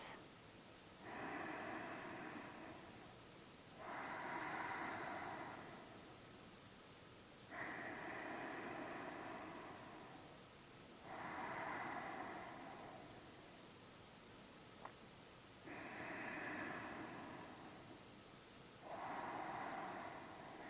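Slow, deep breathing during a second-trimester prenatal yoga session, with several long, soft, airy inhale-exhale cycles repeating at an even, unhurried pace, close and alone without talk.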